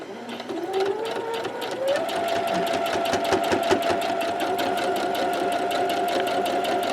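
A sewing machine stitches in the ditch on a quilt block with a rapid, steady needle chatter close by. Its motor pitch rises in the first two seconds and then holds level.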